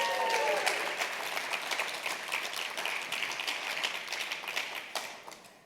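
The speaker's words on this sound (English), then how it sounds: "Give her a round of applause." A conference audience applauds an award winner, a fairly faint but steady round of clapping from a crowd with sharp individual claps, tapering off at the end; a brief voice sounds near the start.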